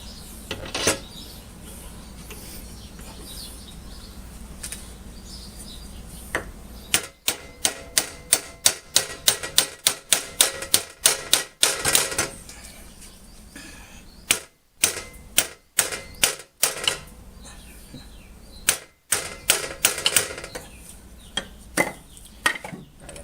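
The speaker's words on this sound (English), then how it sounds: "I've got to bang this into place with a piece of wood and a hammer" A series of sharp, rapid knocks, bursts of quick hammer blows through a piece of wood driving a Sears Craftsman drill press spindle into place, with short pauses between, loud and close.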